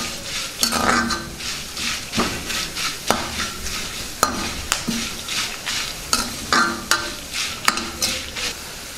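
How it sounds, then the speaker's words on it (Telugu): Ginger, red chillies and tamarind fry in a pan while a spoon stirs and scrapes repeatedly, giving rhythmic metallic clinks over a steady close sizzle. "కొద్దిగా చింతపండు వేసుకుందాం మొత్తాన్ని బాగా వేయించుకుందాం"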